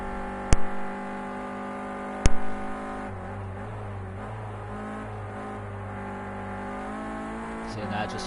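Renault Clio Cup race car at Oulton Park, its engine droning steadily as the driver feathers the throttle, with a couple of sharp clicks early on and a commentator talking over it.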